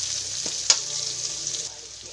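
Onions sizzling in a hot pan without oil while cooking pakbet, a soft, steady frying hiss with a couple of light utensil taps, fairly quiet and close.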